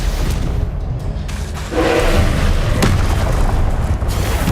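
Booming spell blasts in Hogwarts Legacy gameplay, a loud, dense stretch of explosive bursts with a strong low rumble that jumps in intensity partway through and stays heavy to the end.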